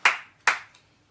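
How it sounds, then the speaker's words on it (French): A church congregation claps together in two short, sharp bursts about half a second apart, each fading quickly, with a faint third clap trailing after them. "Acclamons pour la gloire de Dieu."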